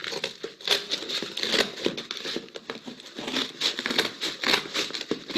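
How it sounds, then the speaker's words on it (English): Scissors cut through cardboard for a craft project, giving a steady close crinkling and crunching with rapid irregular snips and no talk over it. "then I'm just going to cut it with my scissors."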